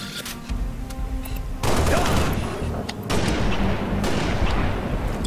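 Gunfire in the Halo Reach video game, mission Nightfall: loud rapid bursts of shots with a sudden surge after a quieter opening, sustained volleys continuing under scattered voices.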